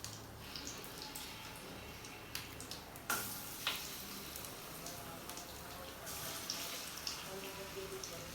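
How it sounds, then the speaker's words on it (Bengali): Chicken pieces for chili chicken go all at once into hot oil, a steady crackling sizzle with scattered sharper pops and spits, close and continuous throughout. "আমি এখন চিকেনগুলো দিয়ে দিচ্ছি। আমি একবারে সবকটি চিকেন দিয়ে দিব।"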